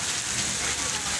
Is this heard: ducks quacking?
no